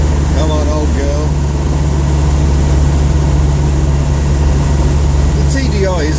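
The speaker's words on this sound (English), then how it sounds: "The TDI is a lovely engine. Lots of low down grunt." A Land Rover Defender's TDI diesel engine runs at a steady, low, throbbing idle close by, with someone briefly talking over it near the start and again at the end.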